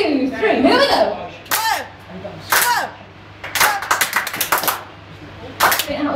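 An audience team at a club show claps and stamps in uneven, loosely rhythmic bursts. Short sharp volleys are separated by pauses, with chuckles, coughs and a voice heard between them.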